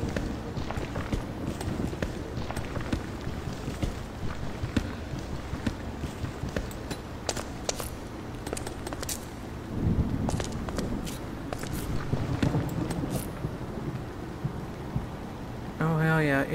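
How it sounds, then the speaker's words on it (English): Steady rain pours down in the dark with rumbles of thunder, mixed with footsteps moving through it. "Oh my god, it's raining."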